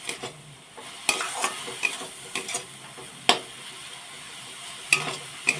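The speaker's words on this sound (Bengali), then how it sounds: "ভালো করে নাড়াবো" Washed flattened rice (chira) stirred in a pan for a sweet, heard as soft scraping and sharp intermittent clinks of a spoon on the metal over a faint sizzle, close and quiet with no talking.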